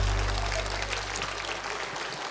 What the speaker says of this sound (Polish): Brawa dla Michasi.